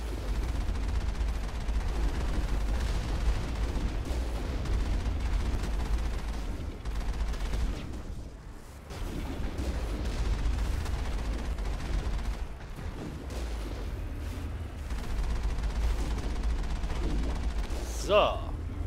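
Sustained Mass Effect gunfire rattles almost continuously, dense bursts with brief lulls, loud and close over a low rumbling background.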